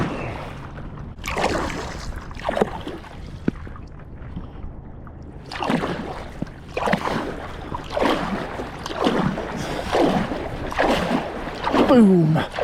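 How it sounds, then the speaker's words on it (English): A passing motorboat's wake sloshing against a paddle board off a remote Scottish island: repeated rolling splashes and water slaps under a low engine drone, loud and close, with someone talking over it. "Someone's got a motorboat or something"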